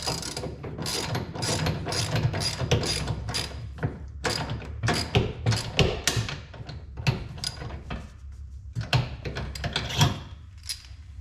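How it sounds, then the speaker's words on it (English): A hand ratchet clicks in rapid, uneven bursts as it turns the drive shaft of a pop-up camper lift system, with short pauses between strokes, close and dry. "Put that in your ratchet and thread it onto the drive shaft."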